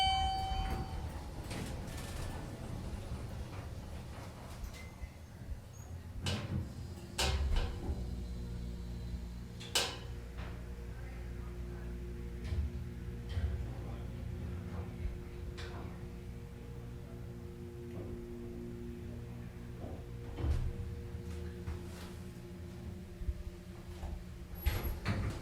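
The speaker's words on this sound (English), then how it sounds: "let's listen to the motor." A Dover hydraulic elevator's motor runs with a steady low hum and drone, joined by occasional clicks and knocks. It stays fairly close and continuous for about 25 seconds, with no talking.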